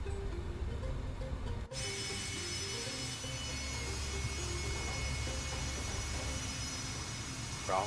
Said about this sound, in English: I was just checking my reversers.